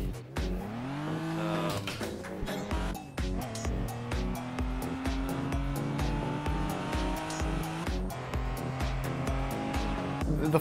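A racing car in the video game Assetto Corsa, driven with a direct drive wheel, gives a steady engine drone that rises and falls through gear changes, with tire squeal as the car nearly drifts.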